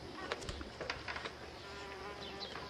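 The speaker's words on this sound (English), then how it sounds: "We have bees here too." Bees buzz faintly against a constant noisy background, with a few brief flicks of wing sound drifting close then away.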